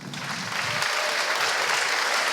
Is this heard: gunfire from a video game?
no